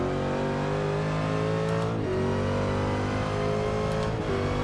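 A race car engine drones steadily in Forza Motorsport 6, driven with a manual clutch, with two short throttle blips dipping and rising the pitch during downshifts, loud and continuous with no talk.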